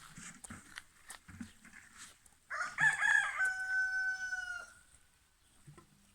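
A rooster crows once, loud and close, a long drawn-out call rising and trailing off, with faint clucks and scattered noises before and after.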